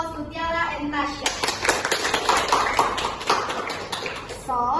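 A classroom group applauds presenters with a steady burst of many hands clapping, dense and close, lasting several seconds between a voice at the start and at the end.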